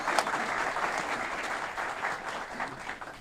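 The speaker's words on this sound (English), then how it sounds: "Let's give them a round of applause." A crowd at a development project announcement gives a round of applause for the project partners, a dense even wash of clapping from many hands with no talk over it.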